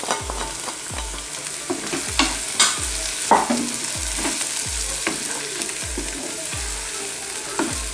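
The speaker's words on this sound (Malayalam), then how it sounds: "മുളക് പൊടി, മഞ്ഞൾപ്പൊടി, ഉലുവാപ്പൊടി, ഇതെല്ലാം കൂടി ഇട്ട് നന്നായിട്ട് ഇളക്കി കൊടുക്കാം" Chili, turmeric and fenugreek powders fry in a pan as the masala for a Kuttanadan fish curry is stirred, with steady sizzling under regular scraping stir strokes roughly every half second, close and moderately loud, no voices.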